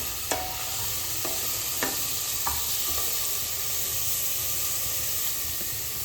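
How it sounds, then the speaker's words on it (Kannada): Food frying steadily in a pan while paneer biryani is cooked, a constant close hiss and sizzle with a few sharp clicks of stirring against the pan, no voices. "ಇದು ಸ್ವಲ್ಪ ಫ್ರೈ ಆಗ್ತಿದ್ದಂಗೆ ಕಡಿಮೆ ಉರಿಲಿ ಇಟ್ಕೊಳ್ಳಿ"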